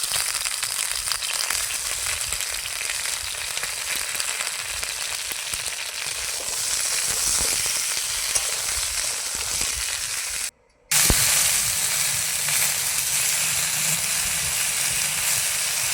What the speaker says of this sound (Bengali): এবার আলুগুলো একটু ভেজে নেব এর সাথে।